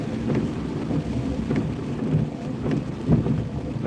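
Rain falling during a rainy drive through the countryside, a steady close hiss of drops with a low rumbling undertone and no voices.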